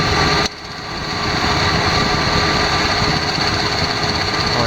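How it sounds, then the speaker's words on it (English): A car engine idles steadily with the A/C clutch or belt tensioner engaged, giving a continuous close, loud mechanical whir with a faint rapid ticking beneath, after a short drop in level near the start. "I don't know if that's the tensioner or the AC clutch."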